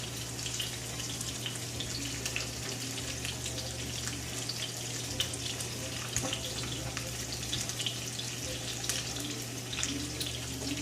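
Asparagus and garlic fry in a pan with a steady, soft sizzle and fine crackle, a constant low hum underneath, no talking.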